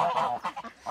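Young white Blanc de l'Allier ducks, about two and a half months old, kept with Indian Runner ducks (one male, two females) on a farm in May; several nearby loud honking, nasal calls come in quick repeated bursts.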